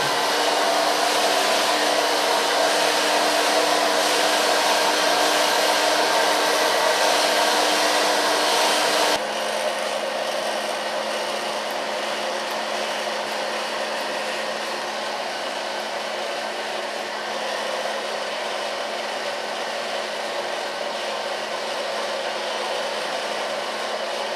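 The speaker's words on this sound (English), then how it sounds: "So far blow drying." A hair dryer blows steadily while short platinum blonde hair is dried with a small brush. It makes a loud, continuous whoosh that drops slightly in pitch and level partway through, with no speech.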